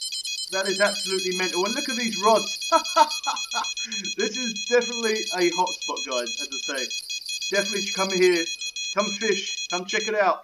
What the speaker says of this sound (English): I'm really sorry for the audio quality being up and down with the bite alarms.